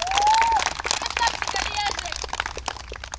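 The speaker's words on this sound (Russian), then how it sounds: "Еще раз аплодисменты Олегу" Audience applause for a youth football tournament award winner named Oleg, moderate clapping from a crowd in a hall, with a whistle-like tone at the start and someone speaking over it.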